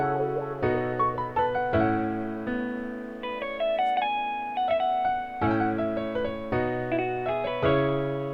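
An emotional beat made in FL Studio plays back alone: soft plucked melodic notes ring and fade in phrases over sustained low chords, moderately quiet and evenly paced.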